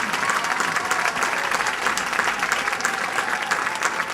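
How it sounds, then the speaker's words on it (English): An audience at a school band concert applauds in a dense, steady wash of clapping that stays full and even for the whole stretch, with no talk on top. "So please give them a huge round of applause."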